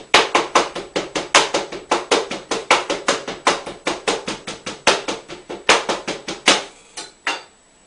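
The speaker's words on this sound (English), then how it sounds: "I like using a knife or meat cleaver to do this instead of the hammer" Repeated heavy chopping thuds of a meat cleaver tenderizing steak on a board, struck in a fast, steady rhythm about three or four per second, close and sharp, stopping near the end.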